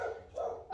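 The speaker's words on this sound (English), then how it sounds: "Sorry about the dog. She's gonna run through and start barking" A pet dog barks indoors in a house, two short yapping bursts close by, fairly loud and separated by a brief pause.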